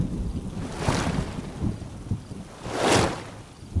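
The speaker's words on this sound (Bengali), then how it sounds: "প্রবল বৃষ্টির রাত।" A stormy night in a cartoon, with heavy rain hissing steadily and two broad rolling thunder swells, the second louder and longer, plus gusts of wind noise.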